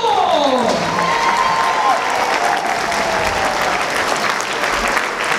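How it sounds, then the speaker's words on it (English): A crowd applauds at a Robot Wars World Championship event, steady loud clapping throughout, with a voice speaking briefly over it near the start. "Let's give him a big round of applause for the team, Justin and Thor!"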